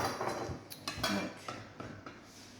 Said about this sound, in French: on va venir couper ça très petit